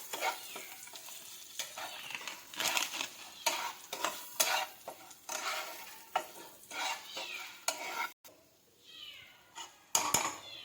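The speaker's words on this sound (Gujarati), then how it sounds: "હવે આપણે સમોસાનો મસાલો નાખી દઈશું અને બરાબર મિક્સ કરીને હલાવી લઈએ।" A spoon stirs samosa masala filling in a pan over the heat, scraping and clattering in repeated strokes against a soft sizzle, close and moderately loud.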